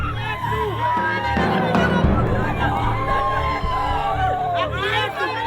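A traumatized crowd, grieving and angry, fills the space with dense overlapping voices, shouts and wailing cries, loud and close throughout with rising agitated calls.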